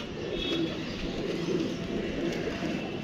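Pigeons from Sargodha cooing close by, soft repeated low coos over a faint background hum.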